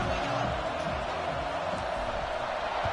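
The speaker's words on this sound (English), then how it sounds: "Loud crowd we got." Steady, dense roar of a stadium crowd at Boone Pickens Stadium in the College Football 26 video game, a continuous loud wash of distant cheering with no distinct voices standing out.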